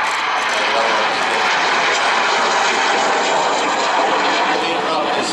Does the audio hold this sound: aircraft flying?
yes